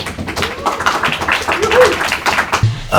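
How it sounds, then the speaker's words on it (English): Applause for Nimai Das from a community audience, a few scattered claps and taps mixed with murmuring voices, moderately loud and uneven over about three seconds. "big round of applause for Nimai"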